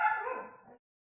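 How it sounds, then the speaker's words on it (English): A single short, close yip from a puppy, bright and high, fading out after under a second and followed by silence. "My puppies doing puppy things."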